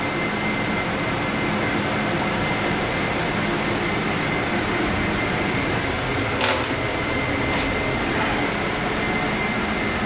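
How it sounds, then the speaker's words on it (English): A 110-volt air conditioner and heat pump inside an ambulance runs with a steady, broadband hum and airy rush, constant and fairly loud, with a couple of brief higher clicks partway through. "Thermostat for the 110-volt air conditioner and heat pump"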